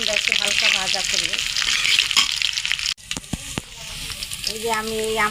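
Garlic lightly frying in mustard oil for a green mango pickle crackles and sizzles under a speaking voice, drops off abruptly midway, then returns more softly with a few sharp stirring taps.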